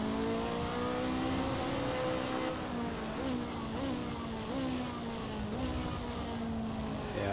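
Race car engine in the Assetto Corsa racing game, driving into the first corner at Monza, droning steadily and loud, with pitch dips and rises as gears shift under braking.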